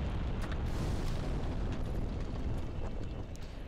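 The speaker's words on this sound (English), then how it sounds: "Explosions." Explosions in the action game Dark Souls, a dense continuous rumbling roar that fills the low end for several seconds, loud and sustained without distinct separate blasts.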